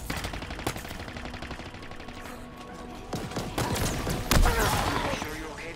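Sustained automatic weapon fire from Halo Infinite rattles steadily, with heavier blasts near the end. The shooting is loud and close, and there is some background game noise.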